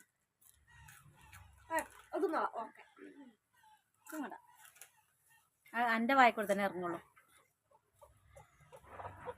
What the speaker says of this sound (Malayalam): രണ്ട് കോഴിക്കൂടെ കൊത്തുണ്ട്